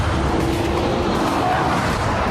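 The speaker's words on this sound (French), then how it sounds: "Voici la GTR. Des accélérations brutales." Nissan GT-R R35 accelerating hard, a loud, close, continuous engine roar holding steady for a couple of seconds with no talk.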